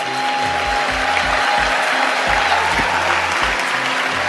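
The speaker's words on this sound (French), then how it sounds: "Vraiment, on l'applaudit pour elle." Steady audience applause, close and dense, sustained without pause at an African diaspora event.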